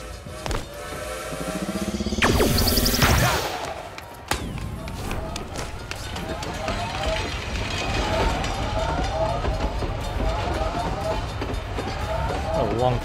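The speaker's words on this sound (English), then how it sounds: "A long train caught up in this mess." A long train in the video game Knockout City rumbles past with a steady clickety-clack, a loud horn-like blast early on, then continuous rolling wheel noise as speech runs over it.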